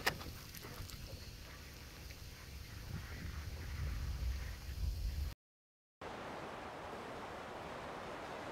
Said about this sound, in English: On this day the wind was very strong and I found it very difficult just standing